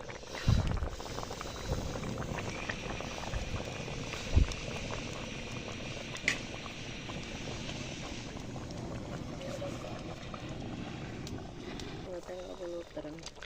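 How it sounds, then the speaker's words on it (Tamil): Soft bubbling of quail curry boiling in a pot, low and continuous, with a few clanks and faint background voices. "நல்லா கொதிக்க ஆரம்பிச்சிருச்சு. நல்லா தலன்னு கொதிக்குது."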